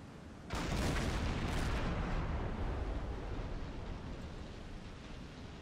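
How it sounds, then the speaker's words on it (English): A secondary explosion on a sinking ship in a submarine video game: a sudden loud, deep blast that swells into a long rumbling roar and slowly fades. "Another secondary explosion."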